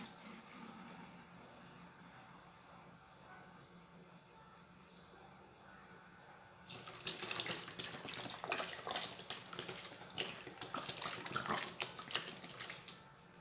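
About two litres of water poured from a pot while making coconut detergent from a bar of soap, heard after a quiet start as a loud, steady splashing gush that carries on to the end.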